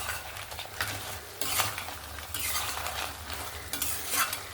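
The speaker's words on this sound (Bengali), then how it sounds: "আবার একটু নাড়াচাড়া করে নিল।" Crab curry is stirred in a pan with a utensil, producing steady scraping and clattering over a continuous sizzle of frying, close and fairly loud, with no voices.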